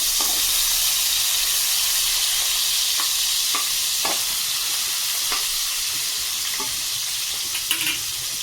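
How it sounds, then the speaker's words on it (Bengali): Steady loud sizzling of small tangra fish frying in a pan, a continuous crackling hiss with occasional pops and light clinks, no voices. "ওদিকে আমার মাছ ভাজা হচ্ছে"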